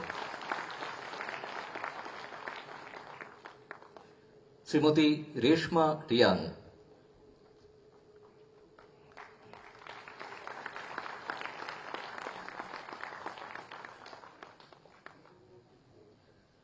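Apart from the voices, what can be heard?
audience applause at offer letter ceremony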